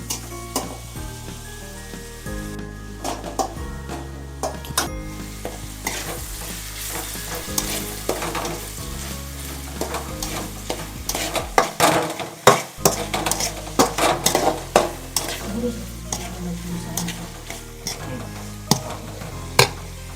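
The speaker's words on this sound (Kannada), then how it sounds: "ಸೊ ಈ ಟೊಮೊಟೊ ಹಾಕ್ಕೊಂಡು ಅದನ್ನು ನೀಟಾಗಿ ಫ್ರೈ ಮಾಡ್ಕೋಬೇಕಾಗುತ್ತೆ." Tomatoes frying in a hot pan for egg bhurji, with a spoon repeatedly stirring and scraping the metal, continuous sizzle underneath and irregular clatter and knocks, fairly close and loud, no speech.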